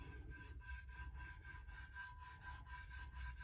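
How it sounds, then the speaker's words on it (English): Glitter is burnished by hand onto a Tack-it coated tumbler with quick, even rubbing strokes that repeat in a close, steady rhythm. "pushing it down flat, it's called burnishing it"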